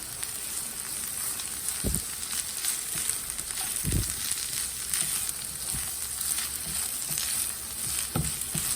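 Ivy gourd fry with grated coconut stirred in a hot pan, a continuous crackling sizzle broken by several soft scraping strokes of the spoon, close and alone.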